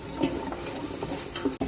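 Ingredients sautéing in a pan for kare-kare: a steady, close sizzle with stirring scrapes and small clinks throughout, without talk.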